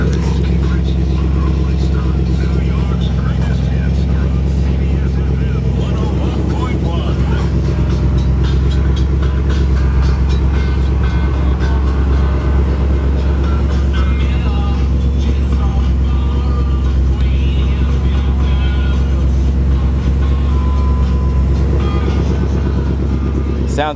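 A 1958 Chevrolet Bel Air with a 348 V8 and Tri-Power carburetion idles steadily, a loud, deep, continuous rumble that holds for the full stretch without revving.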